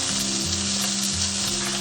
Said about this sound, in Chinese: 一面煎了1分半钟，我们给它翻一个面，继续煎1分钟